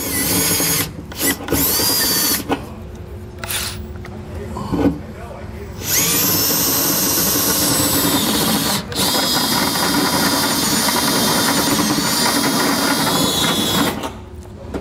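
A power drill whines in several short bursts and then one long steady run, loud and close, as it enlarges holes in the steel frame of a 2022 GMC truck during a gooseneck trailer hitch installation.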